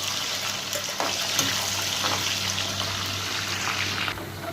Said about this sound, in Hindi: ये तेल गर्म हो रहा है, इसके अंदर ये प्याज ऐड कर देंगे।